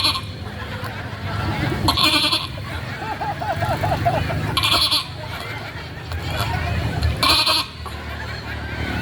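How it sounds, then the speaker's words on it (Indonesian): A young goat bleats in a few short wavering calls amid a noisy crowd, with people talking and general babble throughout. "Itu anak kambing."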